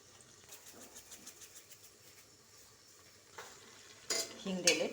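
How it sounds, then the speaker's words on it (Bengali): Masala paste with a pinch of asafoetida fries and is stirred in a pan for a meat dish, a soft steady sizzle with scraping spoon strokes that grow louder and clatter near the end. "পেস্টটা ভাজবো ভালো করে"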